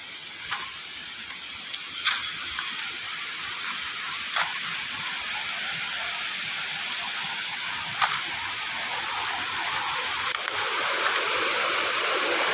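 A stream flows steadily beside a waterfall, a broad continuous rush of water with a few brief splashy bursts, fairly loud and close, with no talking.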